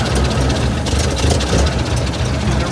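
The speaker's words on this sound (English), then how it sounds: "let's see if she'll fire up here" An old engine, fired through a key starter switch, idles: a loud, steady low rumble fills the whole stretch with a continuous, even drone.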